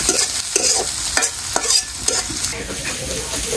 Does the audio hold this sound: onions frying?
yes